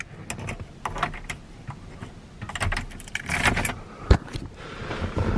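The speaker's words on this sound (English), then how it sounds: "When you first put your key in," A car key jangles as it is inserted into the ignition of a truck fitted with a 47RE transmission, metallic clinks and rattles coming close up in bursts, with a sharp click near the end.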